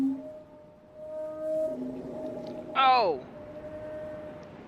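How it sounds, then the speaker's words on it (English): A big fish-like creature in the Riven video game lets out a short, rising and falling warbling call, heard briefly over faint ambient game tones, with a quiet exclamation from a player. "That's the sound of that big fishy thing that rams its face into the glass."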